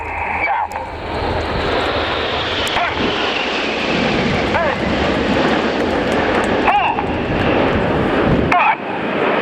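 RAF Red Arrows jets at the RIAT 2016 airshow pitching up at speed for a battle break, a loud sustained jet roar with wind buffeting, a commentator talking throughout.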